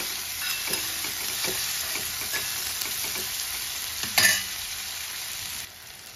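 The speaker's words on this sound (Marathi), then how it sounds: "टोमॅटो आपला छान शिजत आलेला आहे" Tomatoes salted with a pinch of salt fry in a pan and are stirred, giving a steady close sizzle with light spoon taps and scrapes and a brief louder clatter near the end.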